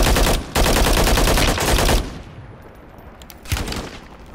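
Dense automatic gunfire from Call of Duty rattles loud and close in two long bursts, then drops to a softer background crackle before another brief burst.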